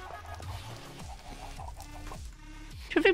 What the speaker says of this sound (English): What about those other chickens?